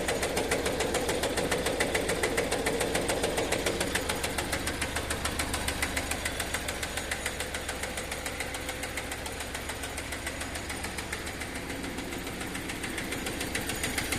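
A Kubota L140 mini tractor engine idles close by with a steady, rapid knocking chug and rattling vibration, unbroken throughout.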